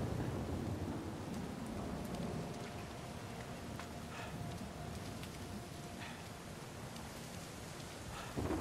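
Steady video game rain in Uncharted 4: A Thief's End pours throughout, a dense constant hiss with a faint low rumble underneath and occasional brighter drips.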